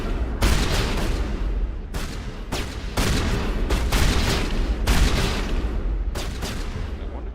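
Explosive blasts and booming game combat in Mass Effect, loud and dense, with several heavy bursts and shots across the stretch, no talking.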